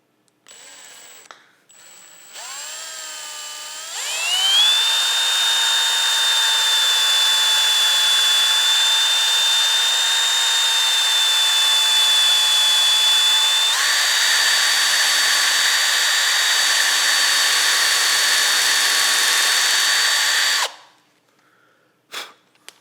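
A power drill bores into a wooden shotgun stock while a custom A.H. Fox is shaped. The motor whines up sharply, holds a loud, steady high-pitched tone with a slight pitch shift midway, then winds down and stops.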